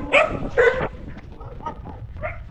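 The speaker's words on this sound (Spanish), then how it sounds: "Aquí los perros son más bravos que en cualquier otro lado." Dogs bark at a runner out on a long training run near San Lázaro Etla, two strong bursts up close at the start and then fainter, scattered barks and yips further off.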